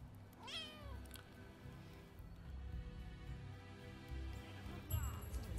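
A cat meows a couple of times in the video game Rise of the Ronin, short rising-falling cries over a busy game soundscape with faint background music.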